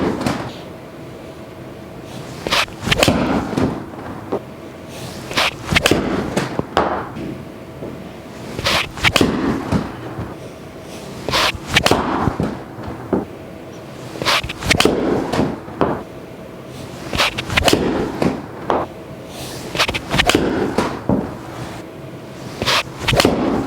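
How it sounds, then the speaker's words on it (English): A golfer hits a series of practice shots with a 7-iron, sharp crisp club strikes recurring at regular intervals, loud and close, with quieter gaps between swings. "I'm going to stand here and hit them."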